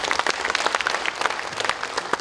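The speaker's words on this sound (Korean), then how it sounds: "박수 부탁드립니다." Democratic Party lawmakers at a workshop ahead of the regular National Assembly session give a warm round of applause, many hands clapping steadily in a room, without speech.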